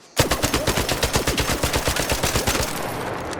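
Tier 4 Rattler automatic gun in a video game firing a rapid sustained burst of about twenty loud evenly spaced shots, starting abruptly and tailing off near the end, with no talking.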